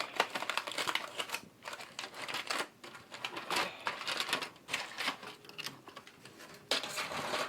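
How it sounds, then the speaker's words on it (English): Aluminum foil peeled off a casserole dish of streusel-topped sweet potato, apple and cranberry bake, a run of crisp crinkling and rustling bursts at close range with no talking. "So I'm going to take off the foil."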